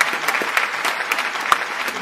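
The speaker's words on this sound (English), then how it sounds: "Everybody, round of applause for William Casanova." Brief round of clapping in a radio studio during an R&B live session with William Casanova, a few people applauding with sharp, scattered claps for about two seconds.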